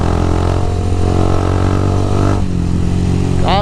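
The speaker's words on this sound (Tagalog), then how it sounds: "Puputok-putok yung aking makina." A motorcycle engine runs close and loud while riding, a steady harmonic drone with a sharp shift midway and a brief rising whine at the end; distinct exhaust pops are not clearly separable.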